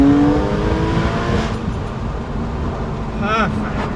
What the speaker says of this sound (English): Now if I put her into sport, the valve opens up. I get more use of the throttle pedal.